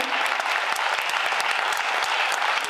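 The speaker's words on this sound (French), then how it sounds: "Je voulais vous applaudir le Dr Fleury." An audience claps for a doctor at an evening event, a brisk, continuous patter of many hands, fairly close and even throughout.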